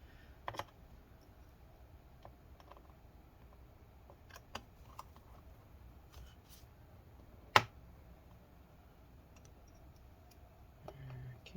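Screws go back into a Dell G7 17 7700 laptop, heard as faint, sparse ticks and clicks with one sharper click partway through, close but quiet against a near-silent room.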